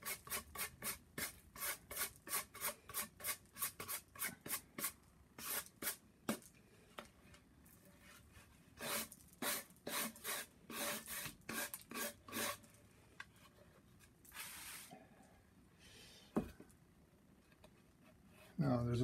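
Dried wood filler made from coffee grounds is scraped off a wooden charcuterie serving board, giving a run of quick rasping strokes in steady rhythm close up, then sparser scrapes with pauses.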